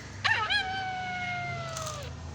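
A wolf gives one long howl that opens with a short yelping rise, then holds a steady, wavering tone for nearly two seconds before trailing off. It is close and clear, with no talk.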